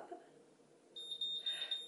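A BaByliss Pro MiraCurl automatic hair curler emits a run of clear, high electronic beeps, starting after a short quiet pause and repeating in a steady rhythm close by.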